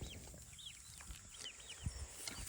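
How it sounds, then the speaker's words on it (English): Chickens cluck and chirp softly in short scattered calls against quiet outdoor background noise. "I'm letting the chickens come over here and dig around."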